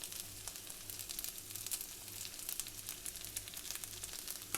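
Spring onion rice seasoned with garlic and herb blend frying in a pan, a soft, steady sizzle with faint stirring, quiet and continuous throughout without speech.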